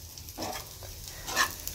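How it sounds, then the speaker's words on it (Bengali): Potato and cauliflower fry in a pan at home, giving a soft sizzle broken by a few brief scraping stirs, fairly quiet and close. "এখানে আলু ফুলকপি ভাজা হচ্ছে"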